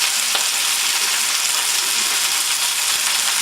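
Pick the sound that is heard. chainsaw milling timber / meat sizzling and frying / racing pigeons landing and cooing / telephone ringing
meat sizzling and frying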